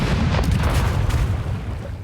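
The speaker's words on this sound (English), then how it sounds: "The volley cannons, as you can see, are so unreliable to the point where I would not even use them." Volley cannons fire aboard a pirate ship in the naval game Rogue Waters, a dense, loud barrage of booming shots blending into continuous low rumble with crackling impacts.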